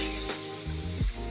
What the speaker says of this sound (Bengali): তো এখন আমি ডালটা দিয়ে দেবো।